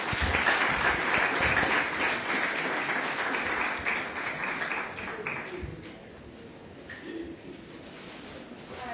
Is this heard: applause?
yes